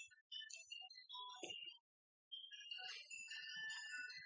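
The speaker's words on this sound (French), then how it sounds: "Pardon pour le téléphone qui sonne." A mobile phone ringtone playing a melodic electronic tune in two phrases separated by a short pause, faint and heard without any talking.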